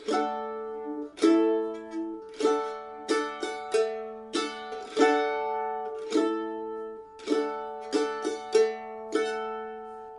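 Mandolin strums ring out alone in an uneven rhythm, full chord strokes mixed with quick lighter upstrokes, each decaying before the next.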